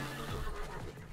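Horse whinnying in the Roblox Wild West game, a single close neigh with a rising-then-falling pitch over steady game background, no talk.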